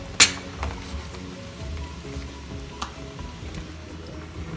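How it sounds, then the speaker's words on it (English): Baby potatoes are dropped into sizzling gravy for dum aloo, opening with a sharp clattering splash and then a low bubbling sizzle with a few faint utensil knocks. "Then we will add in the baby potatoes"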